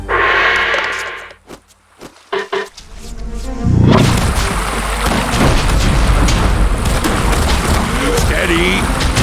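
Cannon fire in the strategy game Battle Realms: a loud booming blast around the midpoint that opens into a sustained rumbling, crackling roar, preceded by a few sharp thuds and short game voice lines.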